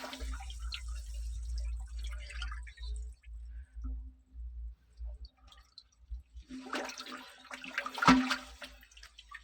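Water from a pipe pours into a water tank in a farm field, making an intermittent low gushing rumble in pulses, then a brighter splashing burst with a sharp knock toward the end.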